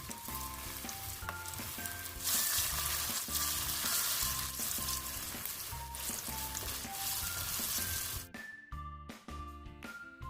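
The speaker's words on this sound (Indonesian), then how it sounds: "Goreng sampai berwarna keemasan." Broccoli florets coated in all-purpose flour batter fry steadily in hot oil, a continuous close sizzle and crackle running throughout with background music playing over it.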